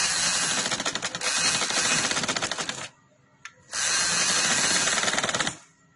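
A sewing machine stitches a frill onto a casual trouser in two fast, rattling bursts: the first runs for about three seconds, then comes a short pause with a faint click, and the second runs for about two seconds. The machine is close and loud.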